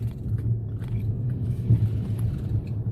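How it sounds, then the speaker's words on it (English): Heavy road traffic streams past a bridge crossing with school buses stopping, a steady low rumble of engines and tyres holding constant throughout, fairly close with no talking. "There's traffic like mad."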